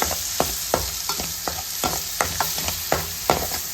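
Onions fry in leftover fish-frying oil with a constant close sizzle, broken by regular scraping stir strokes about twice a second, with no talk.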